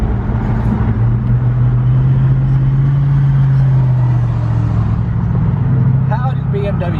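A BMW M4 F83 convertible cruises with its engine droning steadily from inside the cabin, the pitch swelling slightly then easing, wind and road noise around it and people talking over it.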